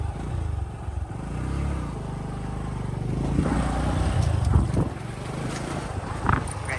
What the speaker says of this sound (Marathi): श्रेयस भाई ने बाइक चालू कर दी.